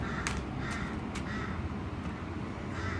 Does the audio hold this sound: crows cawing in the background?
yes